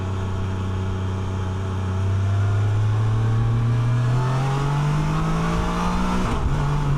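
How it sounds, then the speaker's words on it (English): A 2025 Can-Am Canyon engine drones steadily, its pitch climbing smoothly as it pulls up through the rev range in first gear at about 30 mph, with a brief dip near the end. "It's a linear torque band, so it just kind of pulls progressively up through the rev range"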